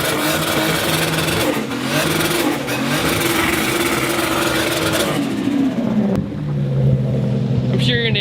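A turbocharged 2005 Lexus IS300 engine runs with a steady droning note that rises and shifts as it revs, loud and close, while people talk over it.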